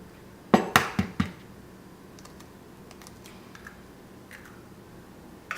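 An egg cracks against a bowl and breaks into flour for ravioli dough: a quick cluster of four sharp, close taps and cracks, then quiet shuffling of kitchen sounds.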